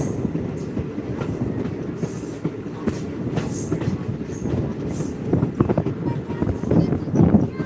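A passenger train travels on the railway line between Bajpatti and Muzaffarpur, its wheels rumbling and clacking over the track joints with occasional metallic squeals, heard steadily from on board with some background voices.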